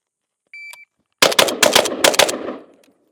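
Unsuppressed Galil ARM rifle, rebarreled, firing rapid pairs of loud, sharp shots, five or six reports in quick succession after a brief electronic beep, each crack leaving a short echoing tail.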